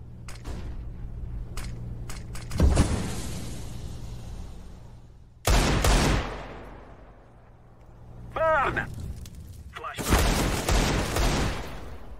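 Flashbang grenades and other combat effects in Counter-Strike: Global Offensive, with loud bursts near 3, 5.5 and 10 seconds and rising pops in between, layered over game noise and talk.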